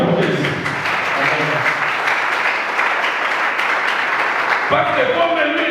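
A church congregation cheers and applauds for Jesus, a dense, sustained wash of clapping and cheering voices with a preacher's speech running over it.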